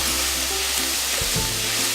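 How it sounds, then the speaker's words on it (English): Mongolian beef, with ginger and rum added, sizzling and frying in a hot pan, a loud continuous hiss with a few faint scraping stirs and no voices. "Fry for about 2 minutes."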